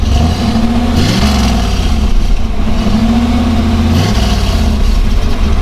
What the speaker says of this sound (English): Our exhaust is on, and it's a conservative exhaust out the back here.